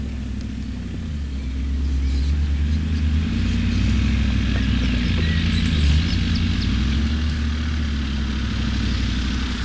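A 4x4 off-road vehicle easing down a step descent, its engine a steady low rumble close by, swelling slightly after the first couple of seconds and holding level to the end.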